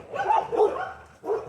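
Several dogs bark in a yard, a run of close, loud barks and yips in two bursts with a brief pause between.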